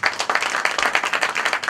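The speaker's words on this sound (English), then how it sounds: "Can you please give them a round of applause?" Round of applause at a KTM press conference, a dense burst of many hands clapping, fairly loud and close, with a slightly uneven rhythm and no talking.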